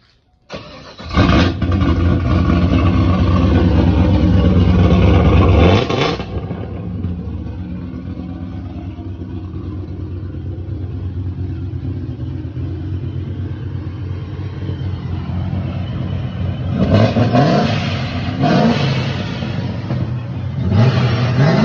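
A powerful supercharged LS1 V8 engine in a 2006 Chevrolet Silverado revs hard for several seconds, settles into a loud rumbling idle, then blips up again twice near the end.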